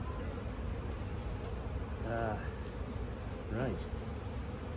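Honey bees buzz steadily around an open beehive as frames of brood are checked, a dense continuous drone with a brief word spoken by a nearby person.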